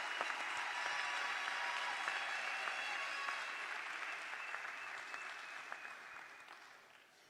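Crowd at a national scholarship award ceremony applauds a student walking up, sustained fairly distant clapping that slowly fades toward the end.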